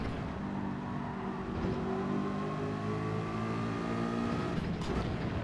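A race car engine in the Gran Turismo video game, a Porsche or 4GT on track, holds a steady loud drone with rising pitch as it accelerates, heard alone without talk.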